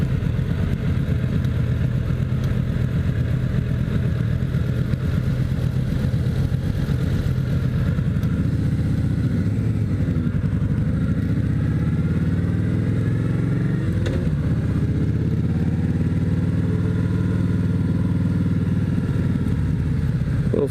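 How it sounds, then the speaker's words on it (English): Suzuki Katana 750 sport motorcycle on a twisty road, a steady engine drone with rising and falling revs and wind rumble throughout, continuous and fairly loud. "Well, Suzuki Katana is a pretty fast bike. Of course, it's the 750, not the 600"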